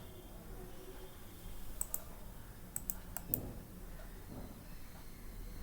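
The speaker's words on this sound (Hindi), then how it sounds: "right click" Computer mouse right-clicks while working in Windows 7 file folders: a few sharp, quiet clicks spaced apart over a faint room hiss, with no talking.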